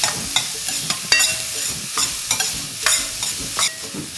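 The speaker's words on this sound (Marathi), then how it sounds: "आणि कोबी आता गॅस मोठाच ठेवायचा आहे आणि या भाज्या एक मिनिटभरासाठी चांगल्या परतून घ्यायच्या" Mixed vegetables with carrot and cabbage are stir-fried on high flame in a large wok, giving a loud, close sizzle broken by repeated scraping and tossing strokes in a quick, uneven rhythm, with no speech.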